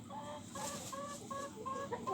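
Several hens and young roosters in Ukraine cluck in quick, overlapping bursts close by, a busy run of short calls with no talking.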